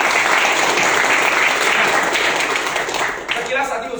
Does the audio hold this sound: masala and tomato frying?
no